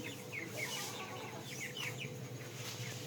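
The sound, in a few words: Asil chickens clucking while being fed rice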